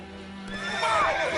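A horse gives a loud, close whinny that rises and wavers through the second half, after a steady low hum, with some rustling and movement around it.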